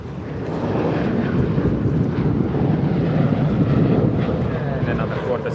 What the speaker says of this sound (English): And another Qantas takeoff. Sydney to Melbourne.